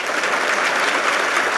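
Steady, dense applause from an audience at an awards ceremony honoring awardees, loud and continuous with no pauses for its short length.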